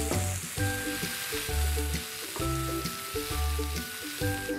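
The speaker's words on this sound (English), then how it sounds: "just to make sure that our onions cook really well and they caramelize" Onions frying and caramelizing in a pan with a sprinkling of salt, giving a steady close sizzle throughout with background music playing over it.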